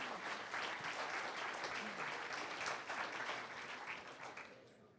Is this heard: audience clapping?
yes